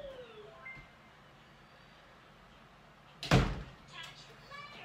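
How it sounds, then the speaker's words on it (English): A door slams shut inside a house, one sharp, loud bang that follows a quiet stretch and is trailed by faint rattling and a voice in the background. "Slamming doors. That's what happens in house."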